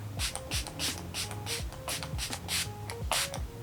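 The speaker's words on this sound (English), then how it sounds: "What I do like is that this is a radiant setting spray" Repeated short hissing spritzes from a bottle of radiant makeup setting spray, about ten quick pumps in an uneven rhythm, close and fairly quiet.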